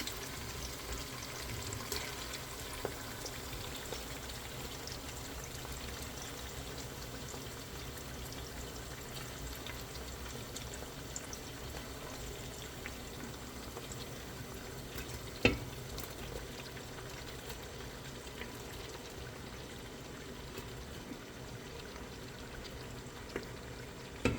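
Meat and onions frying in oil in a pot as the base for couscous, a quiet continuous sizzle with soft stirring scrapes and an occasional clink, without any voices.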